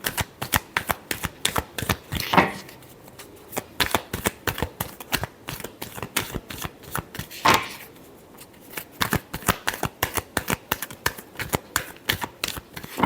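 Tarot cards shuffled by hand in rapid bursts of crisp riffling clicks, close and steady, with a couple of louder bridge-like flutters, no voices.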